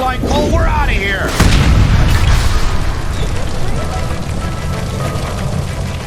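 A gas line explosion in the game LA Noire, a heavy, loud boom with a sustained rumbling roar that fills the whole stretch, following a brief warbling sound at the start.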